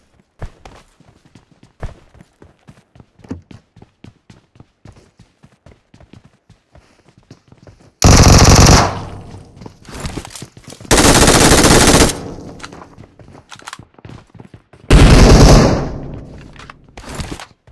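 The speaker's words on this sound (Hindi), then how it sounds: "और इस बार मेरे पास में मशीन गन है।" Machine gun fire in the battle game BGMI, starting with scattered single shots and light footsteps, then three loud sustained automatic bursts, close and dominant, with no talking.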